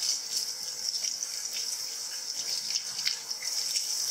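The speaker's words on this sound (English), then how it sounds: "we're gonna rinse that chicken off to get some of the extra salt content off of it" Raw chicken with seeds on it is rinsed under a running kitchen tap, giving a steady close hiss of flowing water with small splashes, and no one talks.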